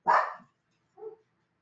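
Dogs barking nearby: one loud sharp bark followed after a pause by a softer, shorter bark, with silence around them.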